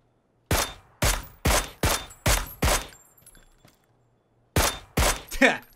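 Loud gunshots from the video game PUBG: six evenly spaced heavy shots in quick succession, a pause of near silence, then three more shots close together.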